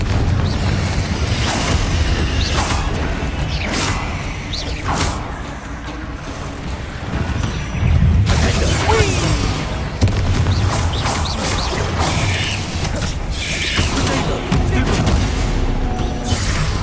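Repeated Confringo blasting-spell explosions in Hogwarts Legacy burst with loud booms and crackling debris, several sharp blasts spread across a busy, continuous battle din.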